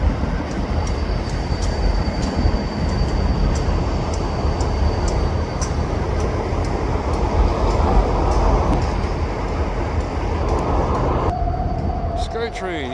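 EMD diesel freight locomotives rumble past at a foggy rail yard in New Westminster. A loud, steady engine drone and rolling wheel noise continue throughout, with sharp clicks from the rails and a tonal hum near the end.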